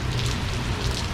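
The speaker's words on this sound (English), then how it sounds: "It's raining." A brief, steady wash of rain falls outdoors, with a dense, even hiss at a fairly constant level and no voices.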